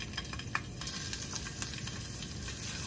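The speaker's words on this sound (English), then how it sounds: "we're going to go ahead and start placing our shrimp in there" Shrimp dropped into hot olive oil in a frying pan for shrimp Alfredo pasta give a steady, close sizzle with faint crackles and small pops throughout, with no talking.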